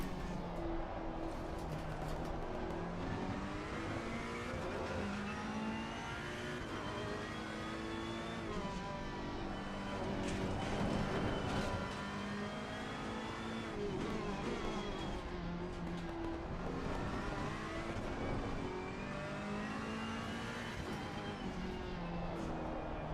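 A Ferrari race car in a racing video game holds its engine at a steady, high-pitched rev throughout, loud and continuous, with harmonic whine rising and falling slightly as it drives around Snetterton.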